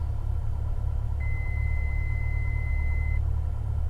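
Cessna 172 piston engine warming up at about 1200 RPM in a flight simulator game, a steady low idling rumble held throughout with a faint thin tone partway through, no talking.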